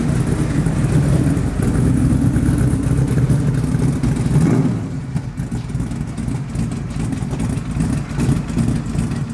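A 1958 C1 Corvette with a 572 big block engine and Magnaflow mufflers runs with a loud, deep rumble, holding steady before easing down to a lower, rougher idle.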